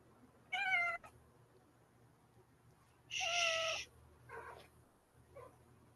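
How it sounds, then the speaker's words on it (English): A chatty pet cat meows indoors in a few distinct calls: two loud, drawn-out meows a couple of seconds apart, then two softer, shorter ones trailing off, over a quiet room hum. "Tell your cat not to talk in class."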